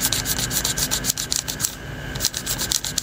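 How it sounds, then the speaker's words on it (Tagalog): An eraser rubbing out pencil marks on paper, heard up close as quick, rhythmic scratchy scrubbing strokes with a short pause partway through. "ito yung pencil. Tapos burahin natin."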